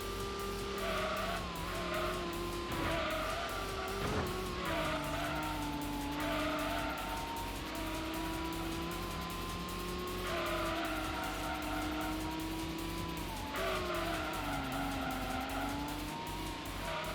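Gran Turismo race cars, a Subaru Impreza among them, in a US vs. Japan race: a steady engine drone with rising and falling pitch as gears shift, plus repeated tire squeals, continuous and without talk.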